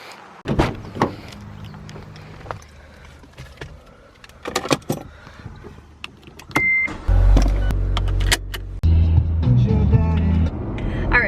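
Inside a car, an electric power window motor whirs as it runs. Clicks, jangling keys and door thuds come first, and a steady engine or road rumble fills the later part.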